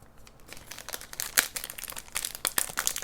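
A Lonohana Kanahiku 70% dark chocolate bar's wrapper crinkles and rustles as it is opened, with irregular sharp crackles and tearing bursts, close and fairly quiet.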